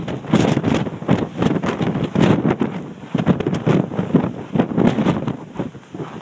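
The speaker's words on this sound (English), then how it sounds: "Easier going down because the wind's helping the float down." Strong, gusting wind buffets the microphone on the Mt Washington summit, a continuous roar that surges and eases in uneven waves with no speech.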